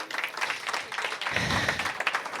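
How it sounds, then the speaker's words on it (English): An audience at a software-defined vehicle panel at an expo claps for a panelist being welcomed on stage, a moderate round of applause with individual claps audible, swelling slightly partway through. "give her a warm applause"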